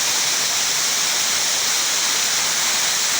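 A forest waterfall pours in a dense, constant, loud rush of falling water, steady and unbroken with no other sounds.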